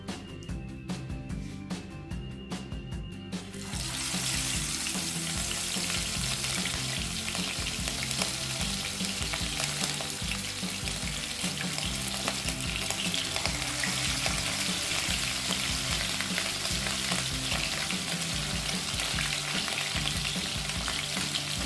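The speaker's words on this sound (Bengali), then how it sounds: "মাছ ভাজার জন্য আমি তেলটা গরম বসিয়ে দিয়েছি। প্রথমে মাছটা ভেজে নেব।" Rohu fish pieces, rubbed with salt and turmeric, frying in hot oil; a steady, loud sizzle and crackle fills the whole stretch after a brief quieter start with some clatter, with no talking.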